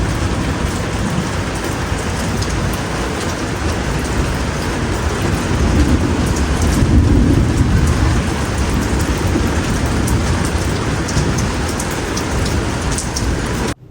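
Steady, heavy rain pours down without a break, a dense hiss of drops that swells slightly in the middle; no voices.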